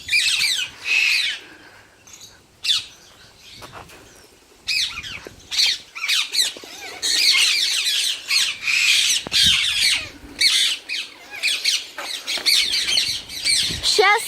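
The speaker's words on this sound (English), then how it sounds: "My nan's birds." A large flock of pet birds kept indoors squawks and screeches loudly in repeated bursts, harsh overlapping calls with short gaps and occasional chirps, close and dominant throughout.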